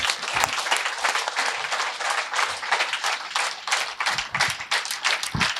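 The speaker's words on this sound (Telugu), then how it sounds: "అందరు కలిసి మనం గట్టిగా చప్పట్లు." An audience at a spiritual gathering applauds guests coming onto the stage, producing loud, continuous, dense clapping from many hands that stays close and sustained throughout, with occasional louder individual claps.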